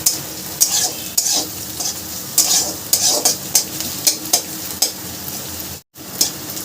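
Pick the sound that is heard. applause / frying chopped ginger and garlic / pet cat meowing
frying chopped ginger and garlic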